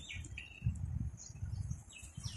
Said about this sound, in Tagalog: May mga ibon pa yun. Umaawit, tumutunog.